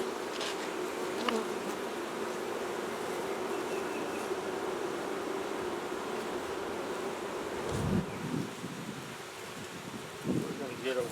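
Honeybees buzz in a steady, close hum around an open beehive while frames are handled, with a few rustles and knocks near the end.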